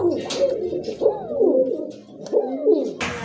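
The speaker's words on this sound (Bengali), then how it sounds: "মাশাল্লাহ একজোড়া শর্ট ফেস কবুতর দেখেন" A pair of short-faced pigeons, including a yellow almond, coo close by in repeated soft, throaty phrases, rising and falling in a steady rhythm.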